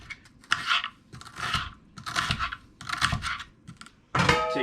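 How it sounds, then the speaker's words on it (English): A kitchen knife slices through an onion on a board while cooking pierogies with bacon: a run of crisp, close crunching cuts in an uneven rhythm, followed by a brief ringing clatter at the end. "Then you're gonna cut your onion like so."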